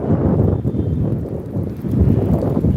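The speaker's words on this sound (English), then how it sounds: "It's pretty breezy out here." Steady, heavy wind roars and buffets outdoors, a continuous low rumble that swells and eases without pause; no voices.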